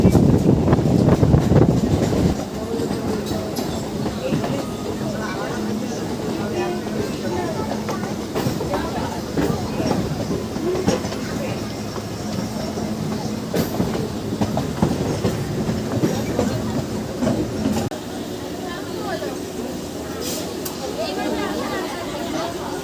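A Dankuni–Sealdah local train rolls along the tracks toward Dum Dum Junction, giving a steady loud rumble with clickety-clack from the wheels, wind noise and a voice talking over it.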